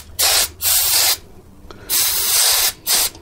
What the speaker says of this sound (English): Washing off with brake clean, putting some on my rag here, and I'll go ahead and clean these things up.